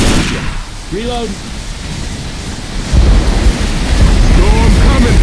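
Hard rain pours steadily in a Left 4 Dead 2 thunderstorm, with a deep thunder rumble swelling loud partway through while a few brief vocal sounds break in over the downpour.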